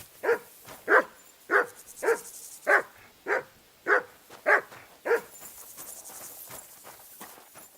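A dog named Mutt barks about nine times in a steady, evenly spaced rhythm, close and loud, before the sound trails off into fainter, quicker noises.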